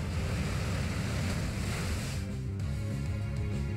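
A rushing wave-like water attack from the Pokémon Omega Ruby/Alpha Sapphire battle move Surf, a loud, broad surging wash that churns steadily and then thins out into a lower, rumbling tail, with no voices.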